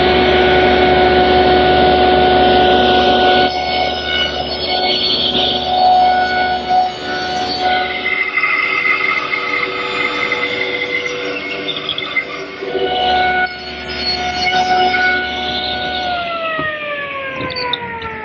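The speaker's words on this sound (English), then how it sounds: "I'll make the shoulder cuts for the tenon first." A saw cutting tenon shoulders for a Windsor chair part gives a continuous whining motor drone with strong harmonic hum that holds steady throughout and winds down in pitch near the end.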